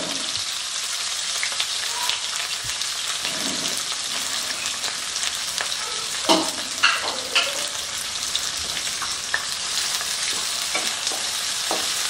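Chopped onions fry with dried red chillies in hot oil for chicken kosha, with a steady close sizzle throughout and a few scraping stirs of a spoon in the pan, with no voices.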